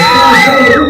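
A crowd shouts together on cue at a mall event, one loud sustained mass of voices, close and filling the moment.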